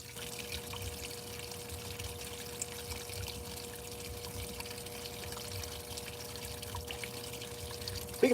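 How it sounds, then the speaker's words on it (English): Whirlpool Cabrio washing machine filling with water for a rinse cycle, a steady pouring trickle running continuously inside the tub at moderate level, with a brief louder bump at the very end. "it looks like we're actually going to be getting a proper rinse this time."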